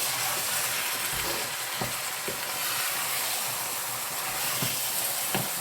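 Chicken pieces frying with onions in a pan, a steady broadband sizzle and hiss with a few soft clinks and stirring scrapes, close and continuous with no talk.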